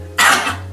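A voice imitates a cough with one harsh, breathy burst that fades quickly, close and fairly loud.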